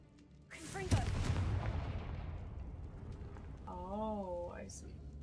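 A Confringo spell fires in Hogwarts Legacy: a sharp crack and a noisy burst that fades into a crackling rumble, followed by a brief tonal chime, with a voice nearby.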